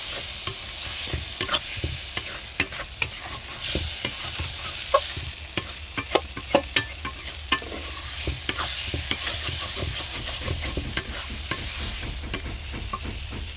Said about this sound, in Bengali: দিয়ে এবার ভালোভাবে মশলা কষিয়ে নেব